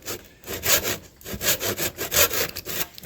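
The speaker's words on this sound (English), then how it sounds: "Nice, careful sawing." Hand saw cutting carefully through mulberry wood for a hammer handle, with steady back-and-forth strokes in an even rhythm, close and clear with no voices.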